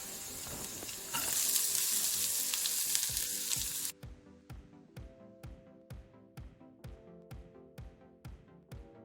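Finely diced onion frying in a pan for beef cannelloni, a loud steady sizzle for about four seconds that then drops to quieter frying under a run of regular, evenly spaced knocks and clicks.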